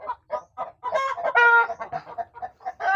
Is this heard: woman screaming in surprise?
no